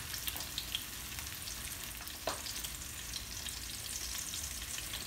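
Red snapper pan frying in hot oil, a steady broadband sizzle with small crackles and a sharper pop near the middle, continuous and fairly close with no voices.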